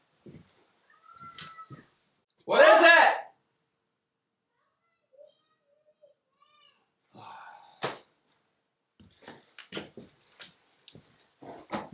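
A sick black cat lets out one loud, strained scream, with a few faint cries and rustling clicks scattered around it in an otherwise quiet room and a brief question spoken nearby.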